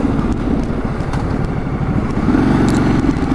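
A 2013 Ducati Multistrada motorcycle engine while riding, a loud close rumbling drone with wind rush, steady with a slight swell toward the end, no talk.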